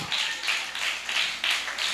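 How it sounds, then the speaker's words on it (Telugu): A church congregation at a Sunday worship service claps together in a steady, rhythmic beat, about two claps per second, with no voices over it. "ఆయన చప్పట్లు కొట్టి దేవుణ్ణి మహిమపరచండి."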